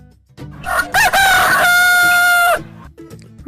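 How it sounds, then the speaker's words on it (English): A rooster crows a single long cock-a-doodle-doo, loud and close, rising sharply and holding a bright sustained call before cutting off, with quiet background after. "Rooster,"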